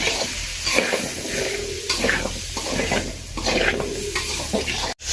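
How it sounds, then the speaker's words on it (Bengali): Potatoes sauté and get stirred into a village-style pigeon curry, a continuous sizzling hiss with scraping and clattering of the pot, ending in a brief sharp clunk. "আলুগুলো দিয়ে ভালো করে কষাই নেব।"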